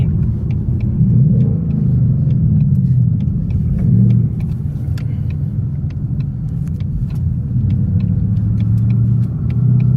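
Ford Mustang base model 5.0 V8 with a manual gearbox, driving: a deep, loud, continuous engine rumble from inside the car, with light ticks and clicks over it and slight swells in volume.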